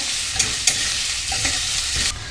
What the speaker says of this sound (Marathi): आता व्यवस्थित लालसर कांदा होईपर्यंत परतून घेऊया।